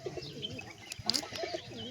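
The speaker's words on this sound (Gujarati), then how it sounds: "બધા કબૂતર ખાતા હતા ને પછી તો અચાનક આવી ગયો આપણો ભૂરો" Pigeons eating scattered grain give soft, faint coos and a few brief chirps against a quiet background.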